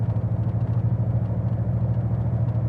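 A 1932 Ford Sedan engine rumbles steadily from inside the car while driving, a low, pulsing mid-range drone with rhythmic throb, close and continuous.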